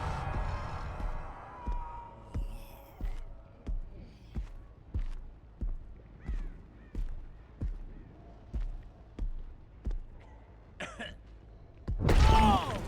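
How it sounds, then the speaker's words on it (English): A zombie in the video game Dead by Daylight coughs repeatedly in a steady rhythm, each short rasping cough spaced about a second apart, with a louder burst at the end. "He coughed."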